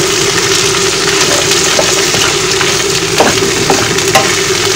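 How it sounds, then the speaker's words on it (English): Carrots, green beans and sweet corn frying in a little oil over low heat in a pan with onions, a loud continuous sizzle with occasional light stirring clicks. "Put it in low heat so that it will cook, it will fry."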